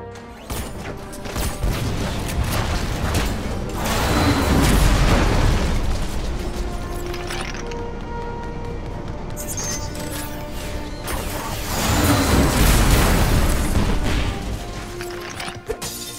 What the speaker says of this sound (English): Knack, use the shockwave to take out those robots' shields.